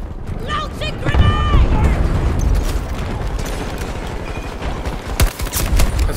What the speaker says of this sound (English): Launching grenade!